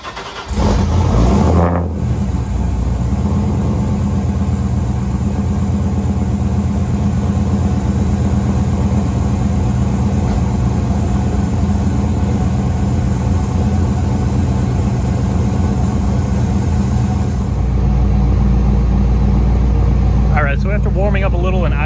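A car engine cold-starting with a brief crank and loud rev, then settling into a steady, rumbling idle through an aftermarket exhaust (SLP Loudmouth, straight pipe or Dynomax Ultra muffler), recorded close behind the rear tire; a voice comes in at the end.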